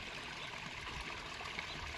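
Water from a garden pond waterfall runs and trickles steadily into the pond, a soft, continuous splashing flow close by with no voices.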